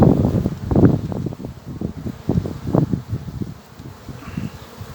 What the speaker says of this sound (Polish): pszczółki ładnie latają